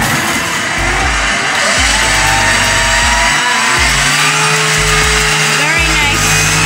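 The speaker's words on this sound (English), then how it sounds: "We are now unloading this 350 SL." Mercedes 350 SL being unloaded, with a loud continuous mechanical drone and repeated low thumps at irregular intervals; voices talk faintly over it.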